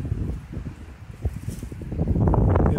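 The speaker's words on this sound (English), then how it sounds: "It's no good. It's too windy." Strong wind blows across an open outdoor spot, a steady low roar and buffeting against the microphone that swells louder toward the end, with no voices.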